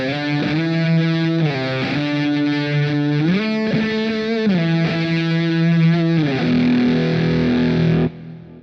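Overdriven electric guitar played through an overdrive pedal on a Positive Grid Spark amp, with a thick, fat low end; sustained distorted chords shift every second or so, then ring out and cut off near the end.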